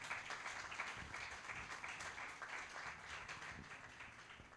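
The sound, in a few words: congregation applause in church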